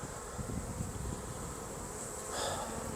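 Honeybees buzz in an opened hive, a soft continuous drone of many wings with a brief closer, brighter buzz near the end, fairly faint and without talk.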